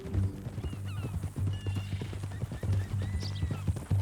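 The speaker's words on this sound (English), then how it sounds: "That a new horse?" Horse hooves clip-clop in a steady, close rhythm in Red Dead Redemption 2, with a whinny and snorting neighs breaking in over the plodding steps.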